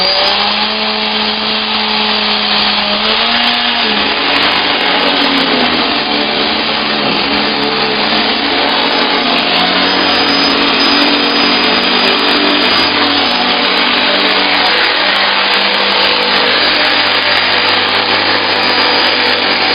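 A Sanitaire Tradition upright vacuum cleaner with a previously botched cord runs continuously, a loud, steady motor roar and whine that fills the whole stretch without a break.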